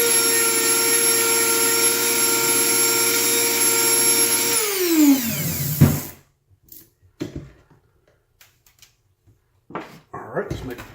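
A power sanding tool whines steadily on an old Sargent padlock to remove burrs, loud and constant, then spins down with a falling pitch and stops, followed by scattered clunks of handling.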